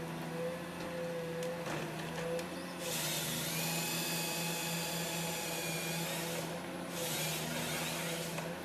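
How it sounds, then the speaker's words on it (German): A forest harvester with a 9-metre crane and a processor head carrying a chainsaw, feed rollers and delimbing knives works during an autumn timber harvest. A steady diesel and hydraulic drone runs throughout, broken by two long, loud, close bursts of high screaming cutting. "Im teilmechanisierten Verfahren kommt ein Holzvollernter zum Einsatz."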